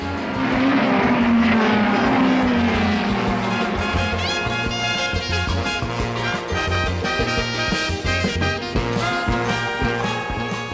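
A Lotus racing car driven by Moss laps the classic Monaco street circuit with a loud, continuous engine roar. Its pitch slides downward early on, then it holds a dense, sustained drone throughout.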